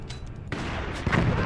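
Artillery cannons fire in the strategy game Forts, with two heavy booming blasts about half a second apart followed by rumbling impacts.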